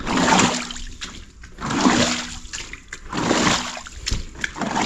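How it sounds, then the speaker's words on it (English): Water draining and splashing out of an unfinished, roofless house under construction, coming in repeated surging washes with sloshing and trickling, fairly loud and close, with no talking. "You see, water is going out."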